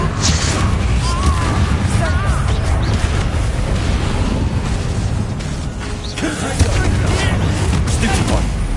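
Bombarda explosion spells and other combat effects burst repeatedly in the Hogwarts Legacy video game, with dense booms and crashes layered over continuous game noise and spoken voices.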